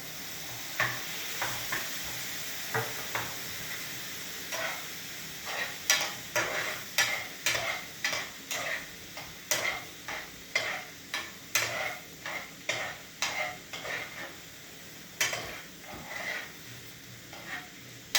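A spoon stirs apples caramelizing in reducing juice in a pan, the cooking liquid sizzling softly beneath a run of irregular scraping and clinking strokes against the pan, close and fairly quiet, with no talking.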